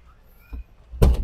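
A Subaru Forester car door shuts with a solid thunk, preceded by a softer knock; close and fairly loud, with no talking.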